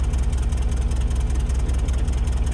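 A 1967 F3 50 motorcycle engine idling, a steady close low putter with a fast even pulse and muffler rumble, loud and continuous with no talk.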